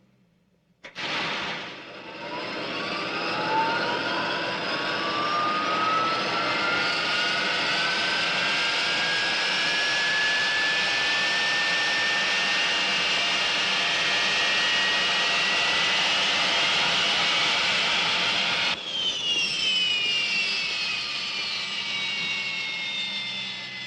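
A fixed-wing aircraft engine starts up and runs loudly and steadily, a rising whine building over a constant roar that holds for about twenty seconds, with a brief dip and pitch shift near the end.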